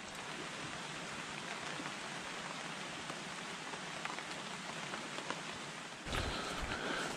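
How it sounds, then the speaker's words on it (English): Drizzling rain patters steadily on a tarp shelter at a late-autumn bushcraft camp, a dense continuous hiss close by, with a slightly heavier, fuller burst of drops near the end. "It is drizzling."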